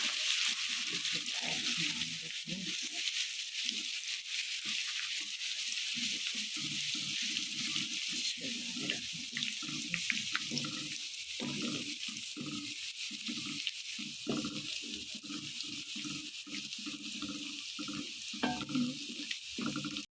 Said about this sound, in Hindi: ये अदरक लहसुन का हमने पेस्ट डाल दिया। इसकी हम ज़रा सी बुनाई करेंगे।